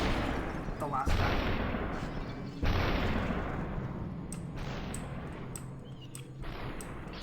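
Gunshots in the game Superhot, two heavy booming blasts with long decaying tails followed by lighter sharp cracks, while a person talks over the action.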